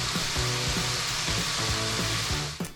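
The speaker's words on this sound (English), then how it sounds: "after I take the sausage out, all of that oil and all the flavorings from the sausage are in the pan, and I'll just cook my veggie in here" Vegetables fry in leftover sausage oil in a pan, giving a loud, dense, continuous sizzle with a low rhythmic pulsing underneath.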